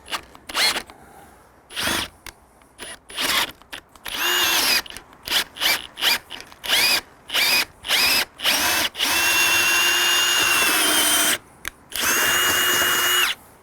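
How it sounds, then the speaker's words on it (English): A power drill fitted with a spade bit bores a hole through a wooden exterior door, whirring in repeated short bursts that build to longer sustained runs, loud and close with no talking. "we're going to set this on the center hole, drill ourselves a hole"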